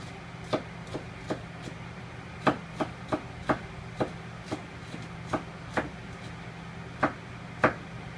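A knife chops vegetables into thin strips on a cutting board in steady, evenly spaced knocks, about two per second, close and alone over a low hum.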